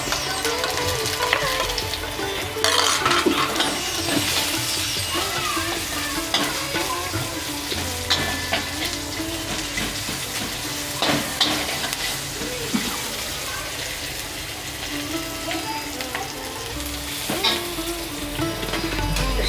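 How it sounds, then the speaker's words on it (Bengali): Onions and four green chillies frying with prawns in hot oil, a continuous crackling sizzle with occasional stirring scrapes and clinks throughout, no voices. "তাহলে পেঁয়াজটা ভাজা হয়ে যাবে"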